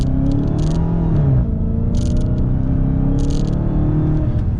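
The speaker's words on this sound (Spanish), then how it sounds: "piso freno, acelero un poco y vámonos" A 2020 Dodge Charger Hellcat Widebody accelerates with a loud, deep, close engine rumble that rises slightly in pitch, while faint high ticking clicks repeat in short clusters.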